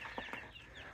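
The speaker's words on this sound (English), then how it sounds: "we're going to check out the other chicks, the laying hens" Young laying hens (pullets) in an outdoor coop give soft, faint clucks, a couple of short calls over a steady background hiss.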